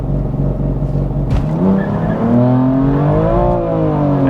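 A modified BMW M2 Competition with an FBO setup and custom BM3 map switching launches hard from about 3,000 rpm on launch control, its engine note loud and rising steadily through a brief dip at an automatic upshift, with no talking over it.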